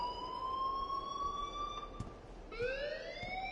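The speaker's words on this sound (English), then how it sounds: "please turn off that alarm since that's your job" A wailing electronic alarm from the video game Life is Strange sounds continuously, its rising, siren-like tones holding steady and then sweeping upward again partway through, loud and alone.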